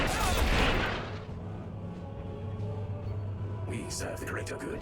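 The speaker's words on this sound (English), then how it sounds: "let's use the missile strikes" Missile strikes in Warhammer 40000 Battlesector land as a loud burst of booming explosions, then fade into a lower rumbling tail with scattered crackles, and a voice speaks over the end.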